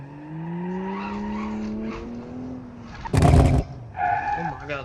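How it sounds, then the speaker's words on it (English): A car drifting in BeamNG.Drive with a revving engine and squealing tires, then a sharp burst of loud backfire pops midway followed by more engine revs and crackles. "Oh my god, the backfires."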